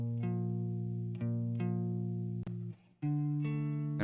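A clean, dry electric guitar plays sustained bass notes in a simple repeating pattern, each note ringing steadily before changing, with a brief gap.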